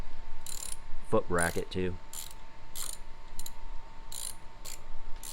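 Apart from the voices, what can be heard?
ratchet wrench tightening a bolt on a forward control conversion kit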